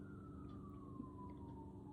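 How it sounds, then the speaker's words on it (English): A wailing emergency siren passes down a street, its long, steady tone gliding slowly downward as it moves away, moderately faint over constant low traffic rumble. "here come the sirens down the street"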